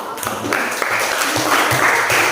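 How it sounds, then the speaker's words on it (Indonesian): Applause from a classroom of students clapping for a classmate, a steady dense patter lasting the whole stretch, fairly loud and close, with faint voices mixed in. "Tepuk tangan dulu untuk Lili."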